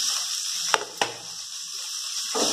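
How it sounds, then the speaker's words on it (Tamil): Carrots and yam sautéing in a pan for Kerala avial, a steady close hiss of frying with two quick spatula knocks partway through. "இந்த சேனைக்கிழங்கு வந்த பிறகு கொஞ்சம் கேரட்டை போட்டு அதையும் நல்லா வதக்கிடுங்க"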